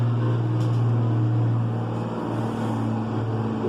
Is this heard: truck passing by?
yes